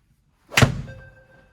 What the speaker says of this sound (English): if you just want to come up here and hit some shots for us